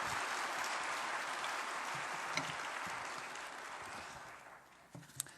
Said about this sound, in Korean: 우리 이재임 목사님 뜨거운 박수로 여러분 환영해 주시기 바랍니다.